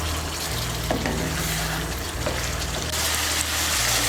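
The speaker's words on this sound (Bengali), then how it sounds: "আঁচটাকে বাড়িয়ে আলু আর ফুলকপিটাকে আর একটু ভালো করে মশলার সঙ্গে কষিয়ে নিয়েছি" Potatoes and cauliflower fry with spices over high heat for a cauliflower dalna, a loud, continuous sizzle with stirring scrapes and a low steady hum underneath, no voices.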